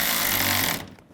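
Power tool tightening bolts on a 2000-13 GMC Yukon transmission oil cooler: a loud, steady buzzing whir running close for most of a second, then cutting off and trailing into quiet.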